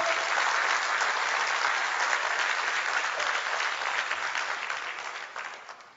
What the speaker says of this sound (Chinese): 所以给瑞威一个掌声。